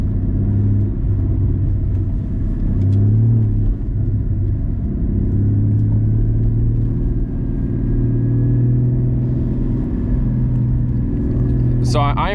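Low, steady engine rumble comes from a Porsche GT4 driving on an unplowed snowy road, holding an even drone with slight swells as the throttle changes, heard from inside the car.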